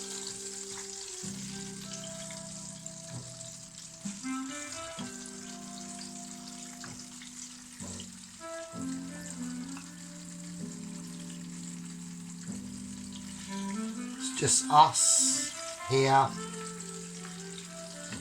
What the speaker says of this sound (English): the bubbles, the frying of the fried chicken